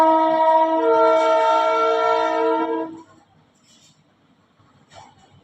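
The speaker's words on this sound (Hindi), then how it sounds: "बगल में रेलवे प्लेटफॉर्म है, गाड़ियाँ आती जाती हैं जिससे आपको डिस्टर्बेंस हो रहा है" Train horn from a railway platform nearby, one loud sustained blast lasting about three seconds before cutting off, followed by faint background noise.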